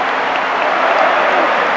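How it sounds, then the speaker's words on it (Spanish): Stadium crowd at a Talleres versus Belgrano Argentine league football derby applauds the home team, a dense, steady wash of clapping filling the whole short stretch with no pause. "El aplauso para el equipo matador,"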